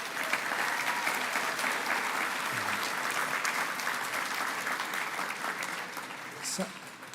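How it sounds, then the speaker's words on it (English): Audience at a charity awards ceremony in Scotland breaks into sustained, dense applause, steady and loud throughout, thinning slightly near the end. "So just give yourselves a round of applause, because it's amazing what you do."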